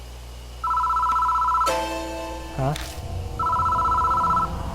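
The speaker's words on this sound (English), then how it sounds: "Phone starts ringing out of nowhere." An old-style telephone bell rings in the horror video game Death Mark, two loud bursts of steady trilling separated by a louder chaotic musical swell, with a voice briefly reacting in between.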